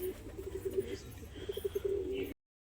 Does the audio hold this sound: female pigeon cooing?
yes